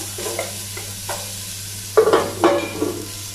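Onions sautéing in a little olive oil in a pan for a squash bourguignon, a faint sizzle under a low hum, broken by a few scattered spoon stirs with two louder scrapes near the end, close by and without talk.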